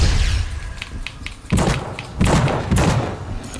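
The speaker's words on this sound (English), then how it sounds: "Throw a flashbang at him." A flashbang grenade goes off in the horror video game The Suffering, several heavy, muffled thuds and bursts landing close together over a low rumbling game background.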